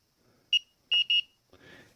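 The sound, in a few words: wrist temperature gun alarm beeping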